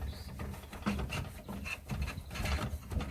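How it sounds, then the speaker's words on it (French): Parts being screwed together during a Volkswagen T5 van fit-out give a steady mechanical ratcheting, rubbing sound. It runs close and continuously for the full clip with no talk. "Là, on vient visser."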